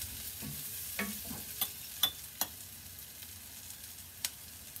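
A spoon stirs a potato and egg curry in a pan over a faint, low sizzle, with sparse scraping clicks and taps standing out over the quiet frying.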